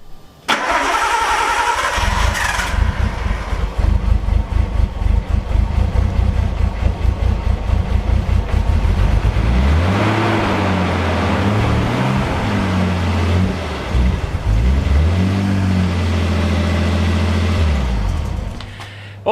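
A Nissan Skyline R32 with an RB20 engine and fresh spark plugs is cranked and started, then idles roughly with repeated revs rising and falling, loud and close throughout.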